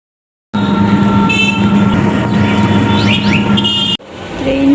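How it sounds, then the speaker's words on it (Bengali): A train pulling out of Medinipur station produces a loud, steady rumble that starts abruptly after a short silence and continues unbroken for several seconds before cutting off, with faint high squeals on top. "ট্রেন ছেড়ে দিয়েছে মেদিনীপুর থেকে,"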